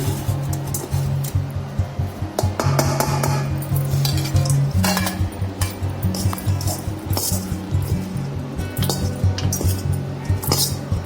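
A spoon scrapes and clinks against a pot while stirring a coconut rice mixture, steady repeated metallic taps and scrapes with a faint low hum underneath and no talk.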